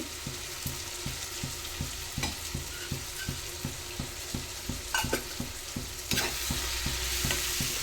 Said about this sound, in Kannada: ಸ್ವಲ್ಪ ಫ್ರೈ ಮಾಡ್ಕೊಳ್ಳೋಣ